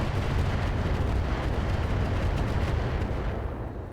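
A volley of missiles launched in the RogueTech mech game, a dense, loud roar of overlapping launches and booms that holds steady for several seconds before fading slightly.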